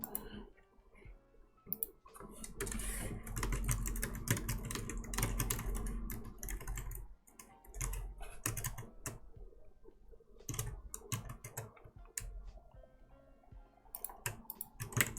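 Rapid typing on a computer keyboard with worn WASD keys, dense bursts of clacking keystrokes over about fifteen seconds, close and steady with brief pauses and a music track in the background.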